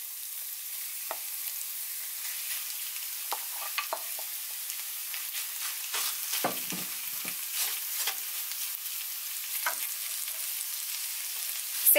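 Potatoes mixed into sautéed onions crackle in an oil-filled pan for a Tamil poori masala, a steady soft sizzle with scattered stirring scrapes and clicks, close and unbroken by talk.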